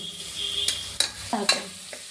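Onions for chicken biryani sauté in a pan with a soft, steady sizzle, punctuated by several sharp spatula scrapes and stirring knocks at close range.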